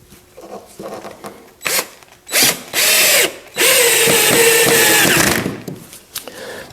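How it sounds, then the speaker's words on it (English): Power drill driving long deck screws into a kitchen window, several loud whirring bursts of rising length with short pauses between, the last burst held for a couple of seconds, close by. "I'm going to hold the thing together with some long deck screws."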